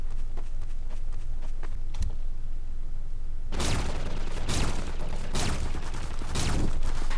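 Players shooting each other in the video game Garry's Mod produce a run of loud, booming gunshots in the second half, following a quieter, steady stretch of game ambience.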